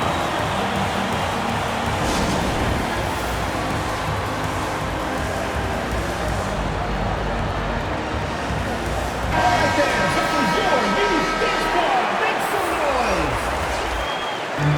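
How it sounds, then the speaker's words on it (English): Arena crowd at a Philippine pro basketball finals Game 7, Barangay Ginebra versus TNT, roaring and applauding in a dense continuous wash, with a commentator's voice running over it and a louder surge partway through. "Fans, please give a big round of applause."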